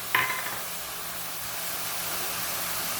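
Bori lumps stirred into a pan of hot banana flower curry, a steady frying sizzle with a brief clatter of the spoon at the start, close and continuous.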